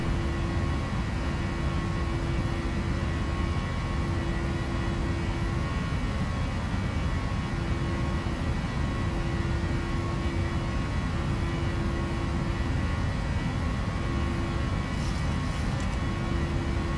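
Steady, loud roar of a PMDG 737-800 airliner's engines climbing out after takeoff from Nuremberg in a flight simulator, a continuous broadband rush with a constant engine tone and no talk.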